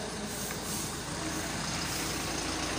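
Eka Pariwisata Kasasri tour bus carrying a PKK women's group on an outing to Cimori, its engine a loud, steady rumble close by with no break.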